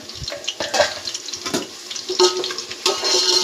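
Onions fry in oil for chicken biryani, a busy close sizzle with bubbling and scattered clatter as they are stirred, no voices.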